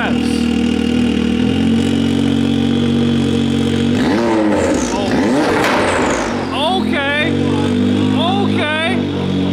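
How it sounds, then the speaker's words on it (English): Turbocharged Can-Am Maverick R side-by-side with an Evo Stage 5 tune, loud and close: a steady idle, then sharp revs that climb and fall, followed by quick turbo-whine blips, with people talking over it. "That turbo is screaming."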